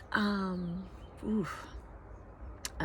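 A crow caws loudly outdoors in a wooded setting in Idlewild, a harsh drawn-out call followed by fainter bird sounds and scattered noises.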